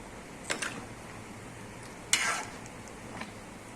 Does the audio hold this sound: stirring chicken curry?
yes